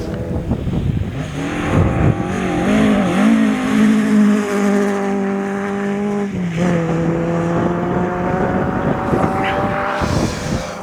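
A rally car on a motorsport stage at Gale Rigg rounds a corner with a loud, rising engine note that shifts pitch as it changes gear and passes nearby, roaring steadily throughout.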